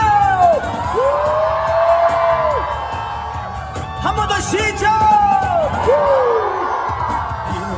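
A large crowd at an impeachment rally outside National Assembly Station in Yeouido, Seoul, sends a cheering wave from front to back. Loud, swelling shouts and whoops rise and fall, and a voice calls out over them.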